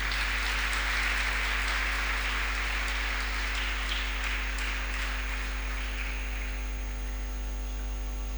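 A church congregation applauding after a Sunday Easter homily, a broad wash of clapping that swells early and slowly fades, heard over a strong steady electrical hum.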